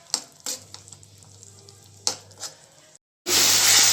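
Tomato gravy fries in a pan while a spoon stirs it, giving a few soft scrapes and clinks over a low sizzle, then a sudden loud, steady hiss of frying near the end.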